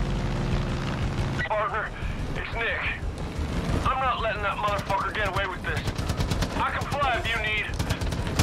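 Rapid automatic gunfire from a machine gun in the video game Far Cry 5, dense repeated bursts mixed with explosive booms, while a voice talks over the action throughout.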